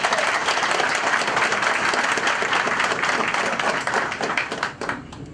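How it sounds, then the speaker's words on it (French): An audience at a town hall ceremony breaks into loud, dense applause that holds steady and then tapers off into a few scattered claps near the end. "Sous vos applaudissements, mesdames et messieurs."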